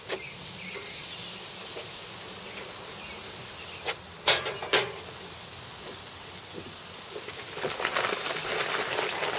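Two Delmonico-cut ribeye steaks searing in a hot pan, giving a steady close hiss of sizzling fat with a few sharper pops and crackles partway through.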